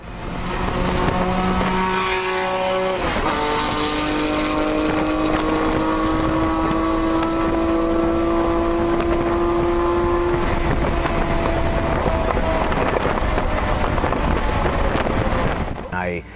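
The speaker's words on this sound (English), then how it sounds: "my car went past him in the straight at Road America, and you heard the car go all the way down the track and then the downshift right before turn 1" A 1972 Porsche 911T with RSR parts races down the straight at Road America, its engine droning loud and steady under wind rush, pitch climbing through gears before a downshift and fade near the end.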